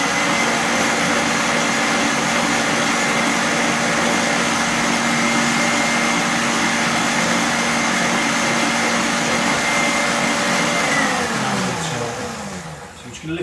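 Electric mixer whisking whole eggs and sugar for an almond tart runs at a steady high whine and whir for several seconds, then winds down near the end.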